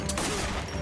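Loud, close burst of gunfire from a TV drama, a sharp crack followed by a brief rumbling tail, heard alone.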